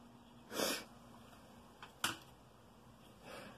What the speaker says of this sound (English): pardon me for sniffling